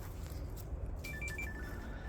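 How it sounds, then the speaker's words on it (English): A mobile phone rings with an incoming call in a home office, a short bright electronic ringtone of rising tones starting midway, fairly quiet over a low background hum. "I'm getting a phone call."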